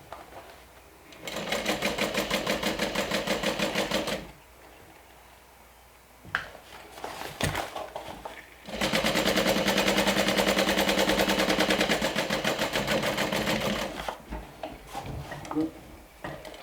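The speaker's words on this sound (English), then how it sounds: "So now on this side I can go back to a basting stitch" A sewing machine runs a basting stitch on a backpack gusset in two long bursts of rapid mechanical ticking, with quieter pauses and handling noise between them and a voice speaking briefly.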